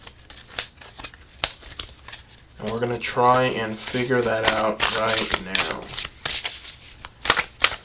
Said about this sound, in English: So we're going to go ahead and shuffle.